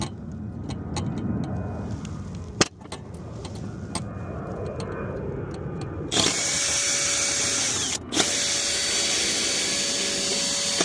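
Power drill boring out a mailbox lock, whining in bursts with clicks and knocks between, then a louder steady grinding run near the end, close by and without talk.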